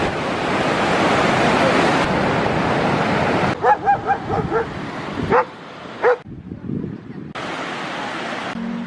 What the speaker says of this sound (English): We're here in the waterfalls